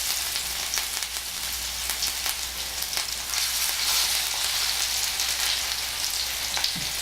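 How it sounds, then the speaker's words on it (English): Thanksgiving leftover patties fry in a pan with a steady, close crackling sizzle, dotted with sharper pops, running throughout with no talking. "So I'm going to just put 4 in the pan right now."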